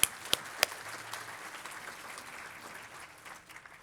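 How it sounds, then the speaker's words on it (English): Audience applause at a Lakewood State of the City 2025 civic event, rising in a steady roar of many clapping hands after a few sharp close claps, then gradually thinning out over several seconds. "Let's give him a big round of applause."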